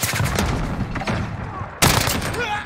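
SCAR rifle bursts in Modern Warfare, two loud clusters of rapid shots close up, the second starting abruptly after a short lull.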